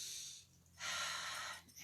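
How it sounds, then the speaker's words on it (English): Close, audible breathing during an arm-circle exercise: a short breath out, then a longer, airy inhale as the arms rise, heard alone without talk. "breathing in on the way up"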